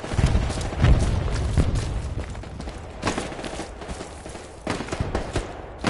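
A grenade blows up in a war video game with a heavy, booming blast near the start, followed by scattered bursts of gunfire and more thuds further off.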